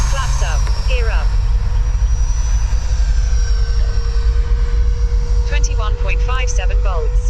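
A Freewing F/A-18C 90mm EDF model jet flies overhead, its ducted fan holding a steady, thin whine over a low rumble. Voices talk in bursts at the start and again near the end.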